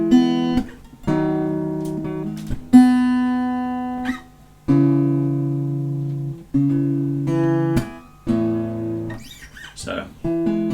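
Acoustic guitar plays the chord progression from a song, with picked single notes, a hammer-on and slides between sustained chords, close and clear at moderate volume.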